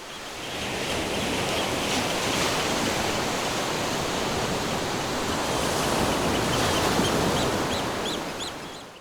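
Atlantic ocean waves off the coast of Nazaré, Portugal roar as a steady, broad wash of surf, swelling slightly and then easing, with no voices.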